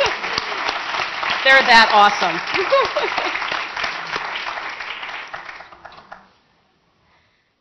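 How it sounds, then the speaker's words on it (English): Audience applause for speakers at a university psychology department anniversary event, a dense broadband clapping wash that holds for about six seconds and then cuts off. A voice speaks briefly over the clapping. "Give them another round of applause."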